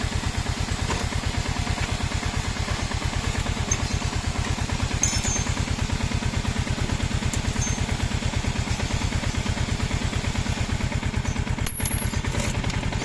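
A Sniper FI 150 motorcycle engine idles with a steady, even pulsing beat while its radiator fan runs, close and constant throughout with no talking.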